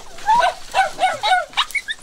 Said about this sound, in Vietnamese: Ây da, đây là chó